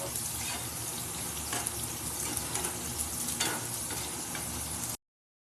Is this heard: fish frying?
yes